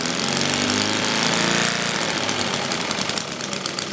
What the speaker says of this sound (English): So that's it running at a low speed.